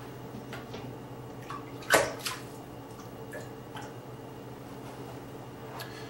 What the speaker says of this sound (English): I'm ready to pour in the concentrated wort from my boiling kettle.